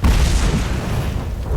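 A grenade blast in the fantasy action game Fable 3 lands as one loud, close boom whose deep rumble fills the moment and then slowly fades.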